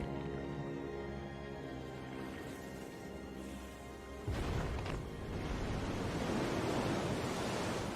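Ocean waves churned up by a blue whale surge and crash, a steady broad wash of surf that swells into a louder, rougher roar midway through and holds to the end.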